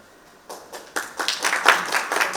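Audience applause for a speaker on a travel industry forum panel: hands start sparse and soft, then swell quickly into fuller, louder clapping that holds steady to the end.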